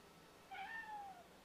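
A house cat gives a single drawn-out meow, moderately close but soft, over a quiet background hum.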